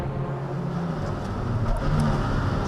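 Toyota MR2 race cars run nose to tail through the complex at Croft circuit during a 2015 Millers Oils Toyota MR2 Championship race, a steady loud engine roar that swells slightly as they pass, with no talk.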